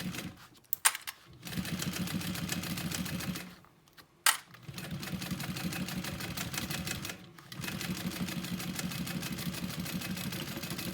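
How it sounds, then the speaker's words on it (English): Sewing machine top stitching a 3/8 inch seam on the base of a Monroe handbag, running in three steady close bursts of rapid needle rhythm separated by short pauses. "we're going to top stitch on the base. Sewing a 3/8 inch seam allowance."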